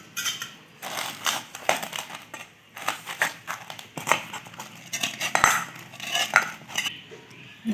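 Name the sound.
kneading paratha dough with water by hand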